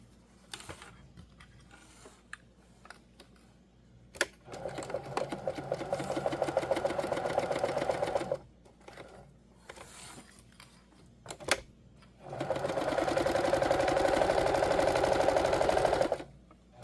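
A sewing machine stitches a seam on a small drawstring bag in two long bursts of steady, rapid mechanical whirring. Short quiet pauses with small clicks come between the runs.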